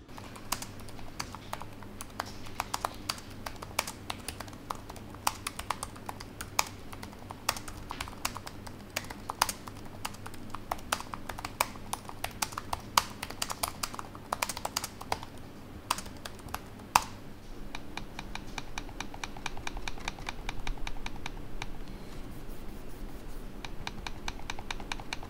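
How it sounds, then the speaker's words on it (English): Steady, rapid typing on a Lenovo Yoga Slim 7 Pro X laptop keyboard, a continuous patter of light key clicks with occasional louder taps, close up and without talk. "here's a typing test and also a trackpad test"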